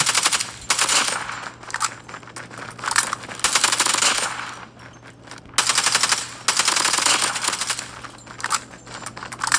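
Rapid bursts of automatic gunfire from the mobile shooter Call of Duty Mobile, heard as sharp, crackling volleys in several separate strings with short pauses between them, loud and close.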